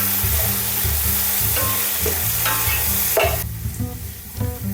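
Onions frying in oil with fresh mint and coriander leaves for a seeraga samba chicken biryani, a loud steady sizzle broken by repeated scraping stirs of a spoon through the pan.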